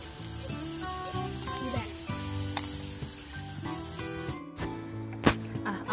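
Moo kratha pork sizzles on a grill pan, a steady frying hiss with tonal sounds layered over it and a sharp crackling spatter near the end.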